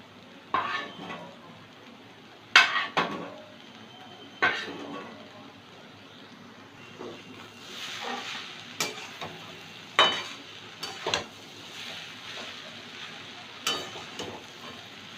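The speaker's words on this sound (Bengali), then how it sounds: "সে ভাজা আলুটা দিয়ে দিচ্ছি" Fried potato pieces go into a simmering papaya curry in a pan, followed by scraping stirs and clinks of a spoon against the pot over a soft bubbling sizzle, close and intermittent.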